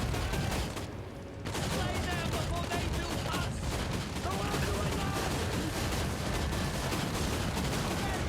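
Dense, continuous gunfire and explosions from a modern-warfare mod battle in the strategy game Total War: Warhammer 3, loud and sustained throughout with a brief dip early on.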